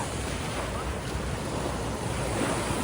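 Waves wash continuously at a beach in the Algarve during a heatwave, a broad, steady roar of surf mixed with wind noise on the microphone, fairly loud and with no voices.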